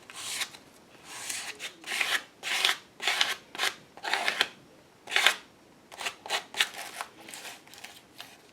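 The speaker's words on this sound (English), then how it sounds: "Bringing in a light coat of gesso with a gift card." Light coat of gesso spread over a book page with a gift card, a series of close, raspy scraping strokes in an irregular rhythm, each swipe a short dry rub, with no talking.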